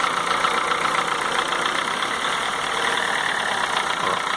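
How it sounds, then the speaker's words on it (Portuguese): A 2004 Honda Fit 1.4 LXL petrol engine with a CVT automatic and a suspected noise fault runs steadily. Its close, constant hum rises in revs and carries a faint knocking texture. "Vou dar uma acelerada aqui para vocês verem o cerrado que eu tô falando."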